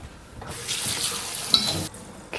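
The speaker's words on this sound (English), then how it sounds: "I'm going to go ahead and strain this in some cold water" Blanched carrots strained in a sink under running cold water, a steady rushing splash of tap water lasting about a second and a half, close and moderately loud, with a brief clink partway through.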